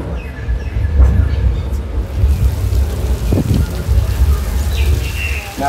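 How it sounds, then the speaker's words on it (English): Artificial studio rain from a sprinkler system hisses as a steady wash across a tram tour set, mixed with low rumbling machinery and brief scattered thumps and chirps. "Now we'll just turn on the rain for our advanced sprinkler system."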